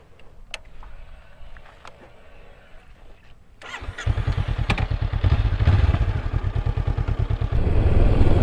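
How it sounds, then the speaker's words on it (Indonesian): A 2020 Honda CB500X motorcycle engine fires up after a few quiet clicks, then chugs and revs with a rapid, pulsing rumble close by. "So jom kita test motor ni."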